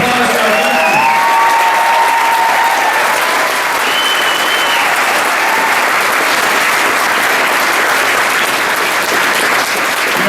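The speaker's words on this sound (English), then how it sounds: "A round of applause for our veterans." A room full of people applauds veterans at a political campaign event, sustained loud clapping and crowd noise that holds steady for about ten seconds, with faint voices at the beginning.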